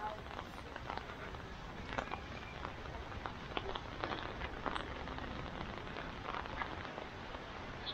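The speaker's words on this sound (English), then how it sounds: "The rain has become stronger." Rain falling steadily and growing heavier during a school-day traffic jam, a dense hiss of drops with scattered sharper taps, near and fairly loud throughout.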